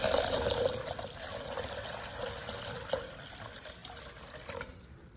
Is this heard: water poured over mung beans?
yes